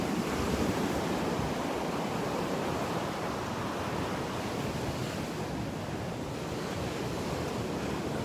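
High ocean surf breaks on the beach at Delnor-Wiggins in the morning, a dense, steady roar of crashing and washing water with some wind buffeting the microphone.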